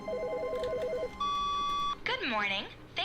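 A synthetic electronic phone ringtone trills in The Stanley Parable video game, a rapid warbling beep followed by a steady held tone, then a voice cuts in with sweeping, rising and falling speech.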